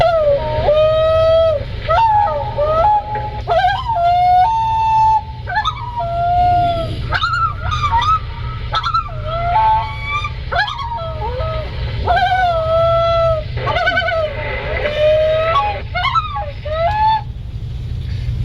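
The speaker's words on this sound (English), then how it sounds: "These combination calls are often heard at night during the night chorusing" Wavering, yodel-like common loon combination calls rise and fall repeatedly over a steady low rumble, loud and close, with tremolo phrases continuing throughout.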